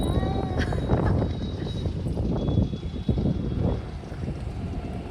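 Wind blowing across a village rooftop, a steady, loud rushing gust buffeting the microphone throughout, with no speech.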